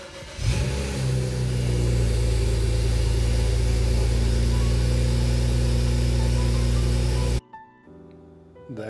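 A car with a BMW N54 engine and an upgraded low-pressure fuel pump turns over, catches and revs loudly before settling into a steady, rumbling idle; it cuts off abruptly near the end, leaving faint clicks.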